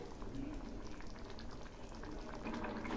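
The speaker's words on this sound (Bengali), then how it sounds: "এগুলি আরও কিছুক্ষণ ফুটবে।" Chana ghugni, a chickpea curry with spices cooked in oil and a cup of water added, bubbles steadily in a pot, a soft continuous simmering hiss throughout.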